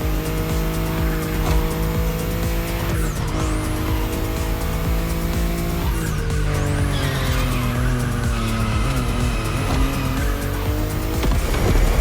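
A BMW i8 hybrid sports car in The Crew Motorfest racing game roars steadily with a high, rising engine note while its tires squeal and skid repeatedly through turns, loud and continuous with no talking.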